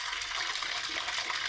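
Water gushes from an outdoor tap and sprays as it splashes down near watering cattle, a steady close hiss of running, spattering water that holds constant throughout.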